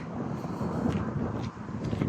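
Strong wind blows outdoors on a sunny walk, a close, steady, rumbling buffeting with small gusts that lasts the whole two seconds.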